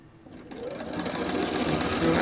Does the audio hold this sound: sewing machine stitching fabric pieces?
yes